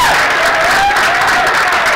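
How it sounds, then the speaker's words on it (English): Loud, close applause fills a playhouse magic show as the crowd claps for a birthday guest, with a faint tonal sound riding above the steady clapping. "Everyone give a big round of applause!"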